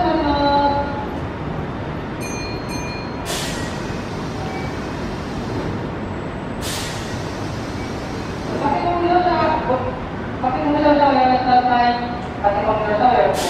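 A Keihan 6000 series semi-express train pulls out of Hirakata-shi station, platform 3, with a rising rumble and wheel noise building near the end under busy platform babble and station chimes.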